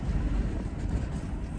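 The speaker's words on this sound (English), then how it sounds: "You can hear how bad the wind is." Strong desert wind in a sandstorm buffets a parked van, a steady low roaring rush with gusty swells that runs the whole time without letup.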